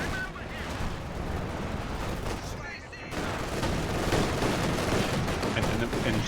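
Artillery barrage in a World War II strategy video game match, a loud continuous rumble of distant and nearby blasts with gunfire mixed in, briefly dipping before resuming, with a commentator talking over it.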